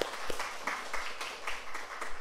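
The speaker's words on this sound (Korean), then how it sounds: "오늘 처음 오신 분들에게 환영하는 박수 보냅니다" Welcoming applause from a church congregation for first-time visitors at a Sunday service, a moderate scatter of clapping hands filling the room.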